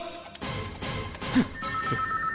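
Telephone ringing in a Telugu action film scene, a repeating electronic ring pattern over background score and room tone, moderately loud, with no talk over it.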